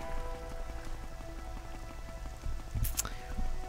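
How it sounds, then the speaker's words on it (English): Rain falling in the Morrowind role-playing game, a soft continuous patter of drops at moderate distance, with a few louder bursts near the end. "Oh, it's raining too."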